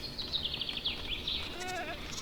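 Goats in the Minecraft video game bleat in a run of quick, wavering high cries, fairly close and moderately loud, with no talking over them.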